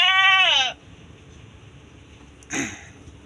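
A young female sheep at a Solo-area sale pen gives one loud, close, wavering bleat, then after a quiet gap a second short, harsher call.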